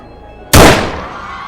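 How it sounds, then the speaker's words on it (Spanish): A single gunshot recorded in news footage, a sharp loud blast that cuts in abruptly and then rings and decays over the following second. "estás a punto de escuchar un disparo"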